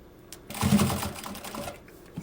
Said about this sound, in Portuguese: E segue a costurinha.